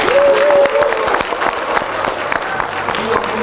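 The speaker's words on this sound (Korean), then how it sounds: "이의가 없으시면 힘찬 박수로 의견해 주시기 바랍니다" Loud, sustained applause from an audience at a Hongik Party presidential candidate nomination convention, with some voices and murmuring mixed into the steady clapping.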